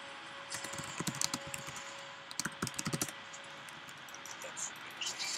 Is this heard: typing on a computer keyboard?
yes